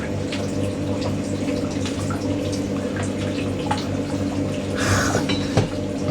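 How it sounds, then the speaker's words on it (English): Water trickling and dripping inside a Hotpoint WD64 Aquarius Extra washer dryer during a full heat drying cycle, over the machine's steady, close hum. "Water's pouring out"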